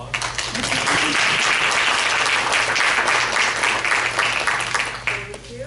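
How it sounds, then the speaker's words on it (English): Applause from the audience at a school board meeting for a PTA president's mini grant presentation, steady, loud, sustained clapping filling the room and tapering off at the end, with a steady low hum beneath. "Looking for a round of applause."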